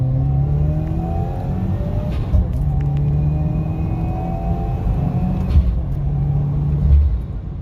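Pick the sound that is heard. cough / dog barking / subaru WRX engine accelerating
subaru WRX engine accelerating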